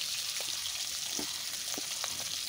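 Large prawns frying in oil with salt and turmeric give a steady close sizzle, with a few faint stirring clicks and no voices.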